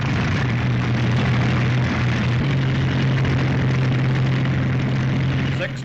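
Several WWII warplane engines run at a steady idle with a strong low drone and propeller throb, loud and continuous throughout without pause.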